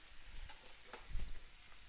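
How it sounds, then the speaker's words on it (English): Vegan Beyond Meat Italian sausages sizzle and fry in a pan over medium heat, a faint steady crackle with a few soft pops and stirring bumps. "I love that little sizzle on sausage"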